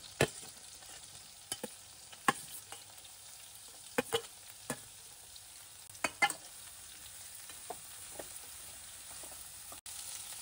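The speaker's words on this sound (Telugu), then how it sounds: "పచ్చిమిర్చి ఇలా కొద్దిగా వేగేటప్పుడు బీరకాయ ముక్కల్ని కూడా వేసేసుకుందాము" Green chillies and ridge gourd pieces fry in oil in a pan, giving a soft steady sizzle punctuated by scattered sharp pops and crackles, close and fairly quiet, with no talking.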